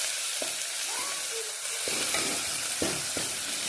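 Green chillies fry in hot oil for a moong dal and fenugreek palya, giving a continuous nearby sizzle broken by a few sharp pops and scrapes, with no voices.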